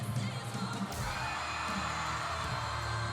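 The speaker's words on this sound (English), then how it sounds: "Crowd's going crazy" Loud crowd cheering and whooping fills a cheerleading competition arena during a senior elite large-team semifinal routine, a sustained roar that swells after a brief dip and holds steady to the end.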